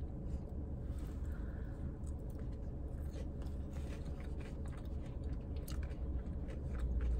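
Close-up chewing and crunching of a Taco Bell Flamin' Hot Cool Ranch Doritos Locos Taco, a steady run of crisp bites and mastication filling the whole stretch with no talk.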